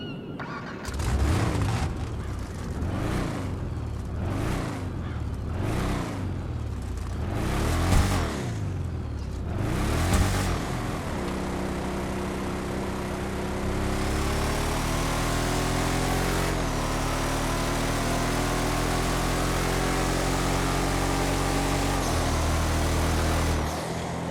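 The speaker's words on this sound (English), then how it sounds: "when you fully accelerate with this car and you hear the turbo spool" A Vamos sports car in GTA Online revs and accelerates hard, its engine note climbing in repeated surges before settling into a sustained high drone with turbo spool, loud and close, no voices.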